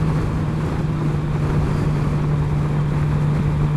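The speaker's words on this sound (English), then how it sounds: "This is my first vlog on the new bike, the GSXR K7 750." Riding a Suzuki GSX-R 750 K7 motorcycle: steady roaring wind buffeting with a constant engine drone underneath, loud and unbroken throughout.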